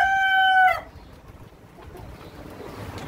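A hill rooster on a poultry farm crows one loud, clear, drawn-out call close by, which cuts off sharply and leaves quiet farmyard ambience.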